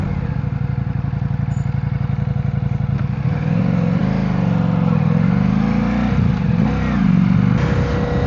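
A 2025 Ducati XDiavel's engine drones steadily in fourth gear at low revs, a loud close rumble that lifts in pitch and strains as the rider tries to accelerate, with wind noise over it.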